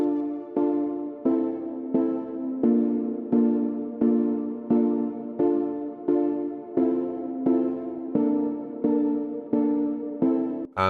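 Synth chords built from simple sawtooth waves with an LFO sweeping the filter cutoff, in a dancefloor drum and bass production, strike in a steady repeating pattern of sustained stabs that pulse and swell alone with no voice.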